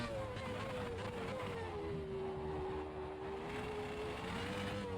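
A retro Formula 1 car in the racing game Automobilista 2 drones steadily at close range as its engine pitch dips and rises, with the traction control cutting in under a continuous buzzing roar.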